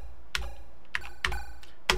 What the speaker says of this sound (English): Randomly pressing keys.